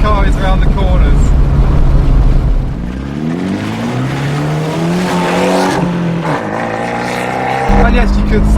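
An Abarth 124 Spider with a 1.4 engine drives on a winding road, its exhaust note rising and falling through gear changes, with a couple of sharp bursts standing out from the loud, close engine drone.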